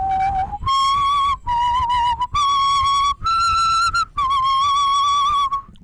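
A person whistling a series of clear, sustained high notes in short phrases separated by brief pauses, close and loud with no talking.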